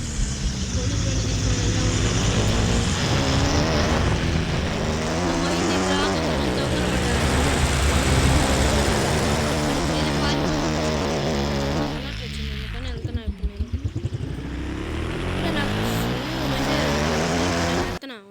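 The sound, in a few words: police vehicle driving, from video game Rope Hero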